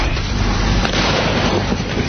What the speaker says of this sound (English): Enclosed in a sealed container and with a piece of silver foil and a spoon to provide a spark, ignition causes the sealed pudding to explode.